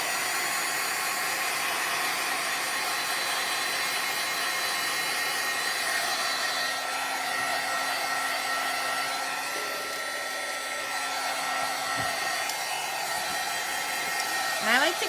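A heat tool blows steadily throughout as it dries alcohol ink on a rubber stamp, a loud continuous airy hiss with a faint hum and a few light handling knocks near the end.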